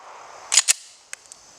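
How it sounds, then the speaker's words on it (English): Glock 19 Gen 6 pistol shots at a range, two quick sharp cracks close together followed by a few fainter, smaller reports, with no talking. "so let's keep shooting."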